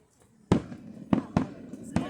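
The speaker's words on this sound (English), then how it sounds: "It's just the fireworks." Fireworks go off in four sharp, booming bangs spaced unevenly and echoing outdoors, with voices talking faintly between the blasts.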